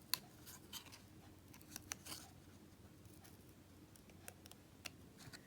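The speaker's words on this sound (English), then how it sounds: "and I would snip that away" Scissors snip around the outline of a stamped image on paper, making faint, close, irregular little cuts and ticks with no talking.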